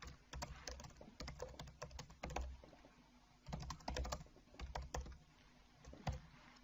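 Keys clatter on a computer keyboard as someone types a social media post, bursts of quick close taps separated by short pauses, with no talking.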